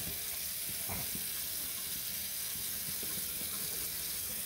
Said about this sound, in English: I'm just going to take and go ahead and just going to rinse them in the sink.